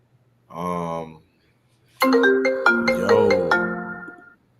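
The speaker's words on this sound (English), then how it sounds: "Your phone rang" A mobile phone ringtone plays loud and close. It starts with a short tonal burst, then after a pause a longer melodic sequence of stepped notes follows.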